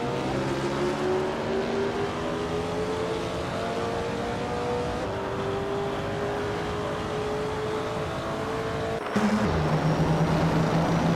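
Race cars roar with a sustained, loud engine whine whose pitch climbs steadily. About two-thirds through, an abrupt shift drops the engine note before it rises again, and no voices are heard.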